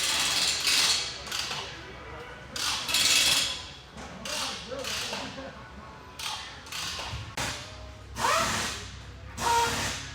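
A power tool zaps out the 10 mm battery tray bolts on a 2017 Ford Expedition in a series of short, sharp rattling bursts spaced unevenly, moderately close against a quiet background.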